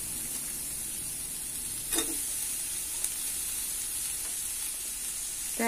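Grated coconut frying with softened onions in a pan for a vegetable thoran gives a steady, close sizzling hiss, broken by a couple of sharp stirring clicks. No one speaks.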